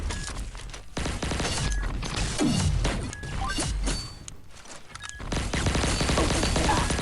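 Rapid bursts of gunfire from the Meteorite destroyer weapon in the shooter game Pixel Gun 3D, loud and dense, with crashing impacts and a falling whoosh mixed in, running almost continuously across the clip.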